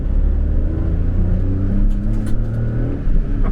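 A Daihatsu Cuore L701 drives along with its small engine revving, a loud, steady low rumble and droning note heard from inside the car.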